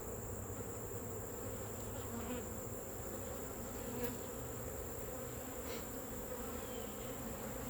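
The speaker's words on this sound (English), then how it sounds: "There's a lot more bees in this bottom box." Steady, low buzzing of many honey bees in the bottom box of a small nucleus hive during a fall inspection, a continuous close drone with no talking.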